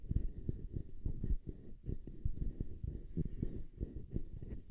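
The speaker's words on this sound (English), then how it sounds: "Handling noise on the XM8500." Handling noise on a Behringer XM8500 handheld dynamic microphone, a steady run of dull low bumps and rubbing thuds as the body is gripped and moved, close-up and fairly quiet with no speech.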